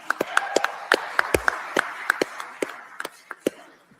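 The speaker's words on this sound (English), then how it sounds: "Let's have a round of applause for Susan" An audience at a forum gives a round of applause: sparse, sharp individual claps scattered unevenly, fairly close, from a modest group of people.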